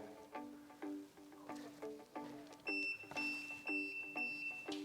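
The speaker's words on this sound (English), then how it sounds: "that was the jog and the 4 beeps you heard" Several short motorised roller blind motor jogs with tonal hums, followed by four electronic beeps, close and clear in a quiet room.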